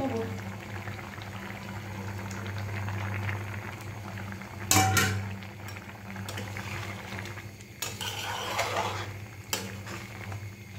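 A small-fish curry simmers in a pot on a home stove, giving a steady low bubbling throughout, with a few sharp scraping bursts as a spoon stirs it midway.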